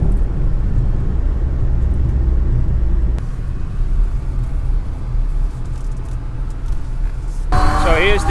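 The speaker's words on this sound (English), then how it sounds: "Here's the traffic I didn't want to add to" Steady road traffic rumbles through a flooded part of town during Hurricane Ian, a continuous low vehicle drone with passing engines and wind-like roar, loud and unbroken throughout.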